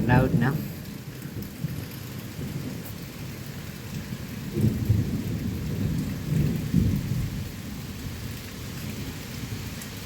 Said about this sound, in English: Oh, there's a bit of thunder.